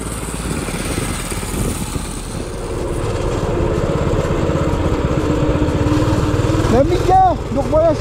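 A Tournois Racing Ormiga engine revs up on a road, its drone rising steadily and loud throughout, with a brief whining sweep near the end.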